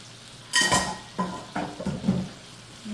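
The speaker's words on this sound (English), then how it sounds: "I saute my mushrooms in butter and olive oil, as you know it." Mushrooms sautéing in butter and olive oil in a pan, heard as a few distinct clinks and scrapes of a utensil against the pan at a moderate distance, with faint sizzling in the background and no talking.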